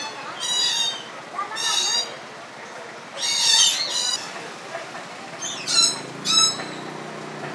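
Birds calling in a series of bright, squawking bursts, several separate calls spaced across the stretch with quieter gaps between, fairly close and loud over faint background murmur.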